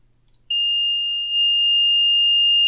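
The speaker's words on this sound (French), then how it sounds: "Donc la sonnerie 3 est une sonnerie continue." An Aeon Labs Z-Wave Plus home alarm siren: a steady, piercing high-pitched alarm tone starts abruptly after a brief quiet moment and holds continuously without pulsing.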